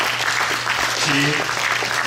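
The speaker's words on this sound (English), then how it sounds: "let's just give them another round of applause" Audience applause for panelists rising at the close of an entrepreneurship forum, a steady broadband patter of clapping throughout with a speaker's voice talking over it.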